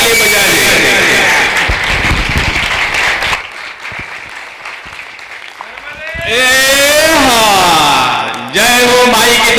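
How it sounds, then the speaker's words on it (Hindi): A standing crowd at a Kumbh mahasammelan gathering in Prayagraj bursts into loud applause, which dies down after a few seconds before a voice rises over the hall. "सब लोग खड़ा होके जी और जोरदार ऐसी ताली बजाइए कि पूरे कुंभ में आवाज आना चाहिए, इतनी जोरदार ताली बजाइए"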